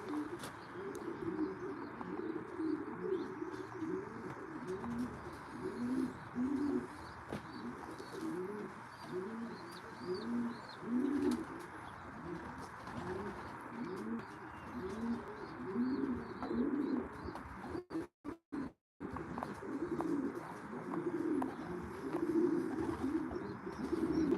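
Pigeons at a racing loft coo steadily in a rhythmic, overlapping chorus close by, with soft chirps mixed in and a few brief dropouts near the end.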